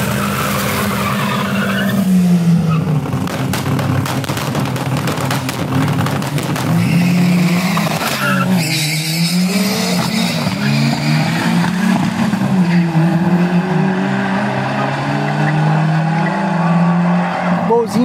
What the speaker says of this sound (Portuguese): Deu a chave, mas nenhum dos dois deu uma boa puxada.